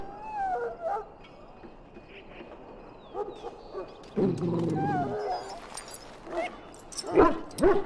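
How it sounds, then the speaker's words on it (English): Mabari war dog in a pen in the Dragon Age: Origins video game, whining and whimpering with yelps and a deep growling bark burst midway, close and clear over faint game ambience. "Now I can treat the dog properly, poor fella."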